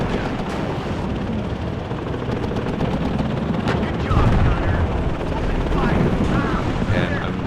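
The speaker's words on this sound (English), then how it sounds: "And the Apache's gonna do a little victory spin." An Apache attack helicopter in the video game Warno, a loud, continuous rotor thrum with gunfire-like bursts and whooshing over it during a victory spin.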